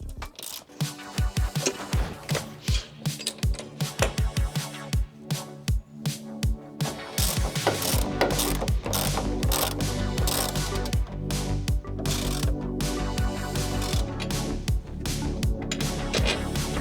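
Ratchet wrench clicking as the torsion tube carrier of a Porsche 944 is bolted back on, loud close bursts of rapid pawl clicks, later becoming a denser continuous ratcheting with metallic rubbing.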